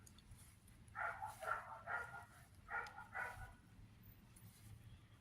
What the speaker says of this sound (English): Some dog barking somewhere.